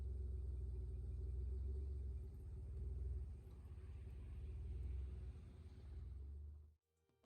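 A pickup truck engine idles while hitched to an RV, a low, steady rumble that stays close and continuous before cutting off abruptly near the end.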